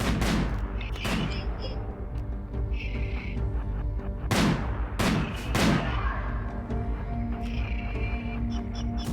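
Pikeman gunshots in RimWorld: several sharp, loud reports in irregular bursts, some close together, over a steady background hum of game ambience.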